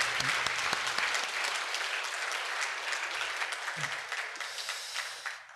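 A church congregation applauds steadily for several seconds, a dense even clapping that slowly tapers off, with faint voices underneath.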